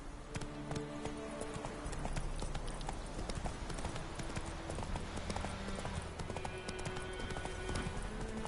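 Roach, the horse from The Witcher 3, gallops in a steady, fast clip-clop rhythm of hoofbeats, close and continuous over a busy game soundscape.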